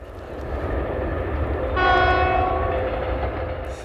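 A train rumbles past with a steady, heavy roar of rolling wheels, and a loud horn blast rises over it midway and holds for about a second.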